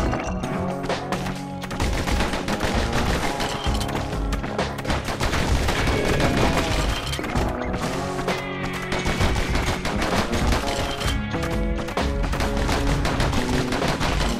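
Enemy pincushion creatures firing shots in the Bastion video game, rapid gunfire-like bursts repeating throughout over a dense, continuous game soundtrack.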